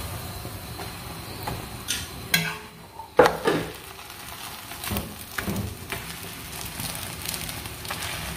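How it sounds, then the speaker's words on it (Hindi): Food fries in desi ghee on a pan, with a continuous sizzle broken by scraping, stirring and a few sharp clatters of utensils against the pan. "और ऊपर देसी घी बस लगा दो, बस नहीं नहीं दूसरी साइड से भी थोड़ा सा कुक करो"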